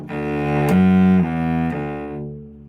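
A few sustained bowed cello notes played close and full, three notes changing pitch smoothly in one continuous stroke before fading out.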